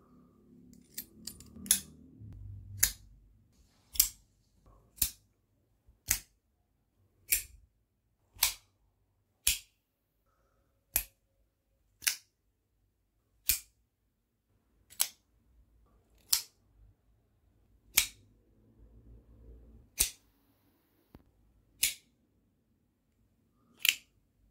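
An EDC front flipper knife snapping open again and again, a crisp metallic click repeating roughly every second or so, close and clean against a quiet background with faint rustling at the start.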